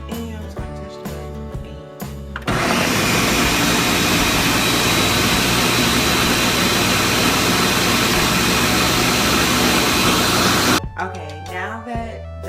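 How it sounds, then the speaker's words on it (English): A blender runs on high, blending kale and almond milk into a green smoothie: a loud, steady roar that starts abruptly and holds for about eight seconds before cutting off, with clicks and handling noises on either side. "I'm gonna blend this for like a minute on high"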